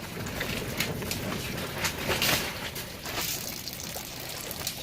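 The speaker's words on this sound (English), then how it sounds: "As you see, it's more of a steady stream now, not just a little bit of dip." A steady stream of water runs through an aquaponics siphon inside a greenhouse, giving a soft, continuous pouring trickle with small splashes and no talk.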